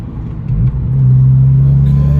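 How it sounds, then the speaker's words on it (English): Cars driving past on a nearby road, a close, loud engine rumble swelling as a vehicle approaches, with no talking. "People are driving like crazy."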